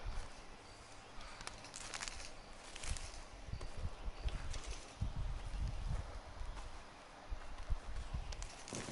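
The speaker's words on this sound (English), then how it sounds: "It's my new horse, Loki Yarrow." Horse hooves clip-clop at a walking pace in a PS4 video game, a steady uneven patter of soft thuds mixed with faint bird calls and game ambience.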